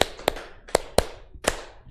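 A group in a classroom lesson claps five times on a count, the loud sharp slaps arriving at slightly uneven intervals with short silences between them.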